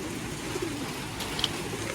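Pigeons coo softly from close by in a short burst, their low, rounded calls sitting over a steady background hiss with no talking.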